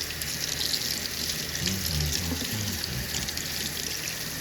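Water runs steadily from a tap into a sink at a jewelry bench during gold plating of a ring, a continuous splashing hiss with faint low clunks.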